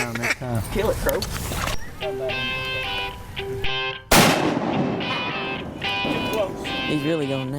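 Shotgun blasts ring out during a duck hunt in the 2015 season, sharp and loud against the outdoor background, with people talking around them and ducks calling.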